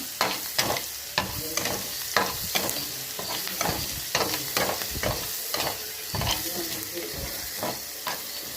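Tomatoes sautéing in a hot pan for tomato thokku, a steady loud sizzle with rhythmic scraping strokes of a spoon stirring through the pan at close range.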